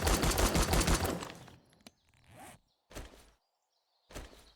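Pipe machine gun in the survival game 7 Days to Die fires a loud, rapid burst, followed by softer reload clicks and mechanical sounds, then two shorter bursts separated by silence.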